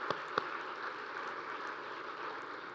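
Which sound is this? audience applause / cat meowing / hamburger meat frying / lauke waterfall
audience applause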